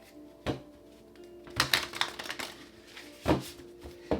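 Crisp papery riffles and slaps of tarot cards being shuffled, a few short bursts with quiet gaps between, close up.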